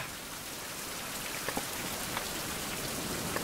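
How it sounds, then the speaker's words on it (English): Steady rain in the Survival Fountain of Youth game world, a dense even hiss of falling water with a few sharper drop taps scattered through, constant and moderately loud with no voices. "I'll deal with the rain for now."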